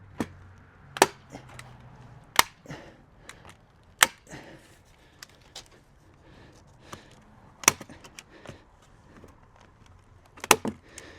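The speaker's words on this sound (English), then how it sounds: "I'll take the staple gun and just lock it in" A staple gun fires staples one at a time to fasten a cover onto a wooden beehive, giving sharp, close snaps spread irregularly across the clip, with faint handling rustle between shots.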